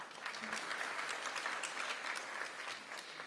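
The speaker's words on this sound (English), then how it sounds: "Give that a hand clap." Dense audience applause at a Cincinnati mayor and city council swearing-in ceremony, a steady wash of many hands clapping that holds at an even level throughout with no voices breaking through.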